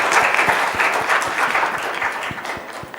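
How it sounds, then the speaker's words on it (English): Conference audience applauds after a research presentation at an Olympic research event, dense clapping with a few sharp individual claps standing out, fairly loud and continuous throughout. "Let's give a big round of applause for him."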